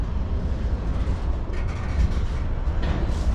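A heavy freight train rumbles steadily at close range, stopping at a red signal, a low continuous roar with faint metallic squeals and clanks as it slows.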